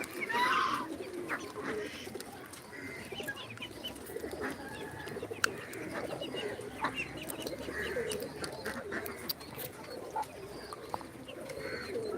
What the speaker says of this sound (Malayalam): നമുക്കൊന്ന് ജസ്റ്റ് പ്രാവിനെല്ലാം കാണാലോ